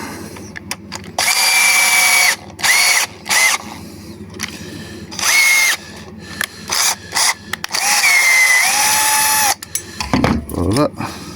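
A power drill works a screw out of an aluminium scooter in several short bursts of whining motor, loud and close, with brief gaps and clanks between runs and a bit of handling noise at the end.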